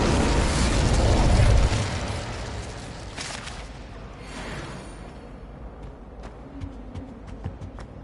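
Incendio fire spell cast in a video game: a loud roaring burst that swells at once, fades over a few seconds into a low crackling hiss, then leaves scattered small pops and clicks.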